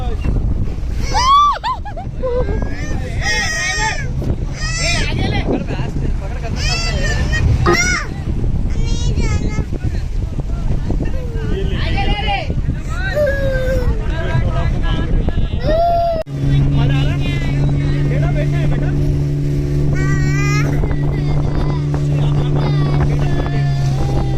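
Motorboat ride on the water in Goa, with an engine hum and wind buffeting running throughout while adults and someone talk and exclaim excitedly over it, and a steadier engine tone settling in during the later part.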